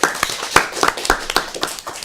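A small audience claps for a quiz team, a quick run of sharp, uneven hand claps from a few people close by, with no talking.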